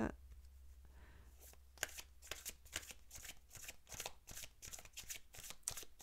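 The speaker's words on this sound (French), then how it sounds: "on va retirer une carte" Soft flicking and shuffling of a tarot deck as a card is drawn, a run of quick papery riffles close by, with a voice speaking faintly behind.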